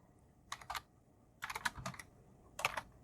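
Three short bursts of clicking keystrokes as Java code is typed on a computer keyboard, close and fairly quiet, separated by brief pauses.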